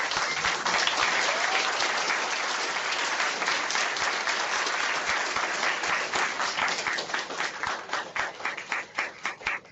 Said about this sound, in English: join me in giving a warm round of applause to Pro Football Hall of Fame, Mr. Carl Eller